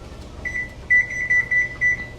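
A microwave oven timer being set for a rice dish beeps in short tones: one brief beep, then a run of quick button beeps and a final tone, close and clear with no talking.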